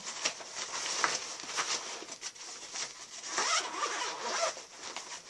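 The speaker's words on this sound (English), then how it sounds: "It's a full zipper, so it unzips completely" A zipper on a Kelty Pocket Picnic Pack is drawn fully open in several long, scratchy pulls, close up, with faint rustling between strokes and no talking.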